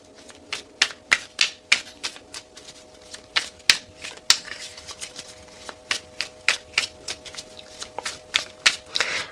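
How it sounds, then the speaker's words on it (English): A deck of tarot cards being shuffled, with a quick, irregular run of sharp riffling snaps and flicks close by over a steady low background hum. "I know everybody hates the shuffling."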